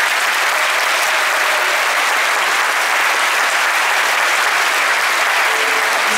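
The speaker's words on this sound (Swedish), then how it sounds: "Kan ni ge en stor applåd för mig?" A large audience fills the Berwaldhallen concert hall with loud, dense, sustained applause, a steady wash of countless hands clapping with no pauses and no voices standing out.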